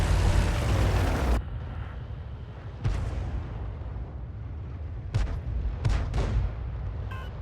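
Artillery in a tank video game, an AMX 13 F3 AM self-propelled gun: a heavy, loud blast that rumbles and fades, followed by several sharper distant booms and cracks scattered over the next few seconds, no talking.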